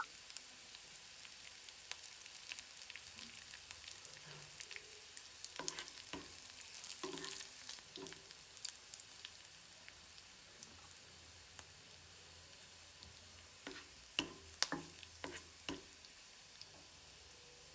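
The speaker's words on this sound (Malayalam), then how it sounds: "നമുക്കിതിലേക്ക് ഇനി 2 തണ്ട് കറിവേപ്പിലയും ചേർക്കാം." Curry leaves fry and get stirred in a pan while Kerala-style rajma curry is being made, a faint steady sizzle broken by soft scraping strokes and a few sharp crackling pops near the end.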